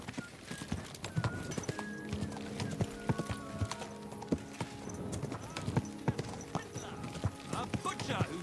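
Steady clip-clop of horse hooves in the video game Kingdom Come: Deliverance II, regular and fairly close, mixed with clanking, shouting voices and a brief whinny in a busy scene.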